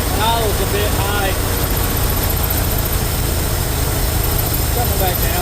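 A Ford F350 dump truck engine idles a bit high with a loud, steady, close rumble and broadband roar, with brief faint sounds over it.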